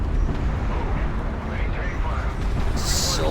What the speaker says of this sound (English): huge artillery barrages.